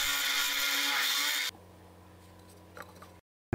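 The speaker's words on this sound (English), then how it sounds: "and after that I'm drilling for the center shaft" A loud, steady power-drill whir runs for about a second and a half while drilling a hole for a center shaft, then cuts to quieter workshop noise with a few light clicks before stopping.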